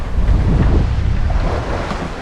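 Wind and waves roar at sea aboard a sailboat under full sails in about 11 knots of wind, a loud, continuous rush of surf and gusting wind noise.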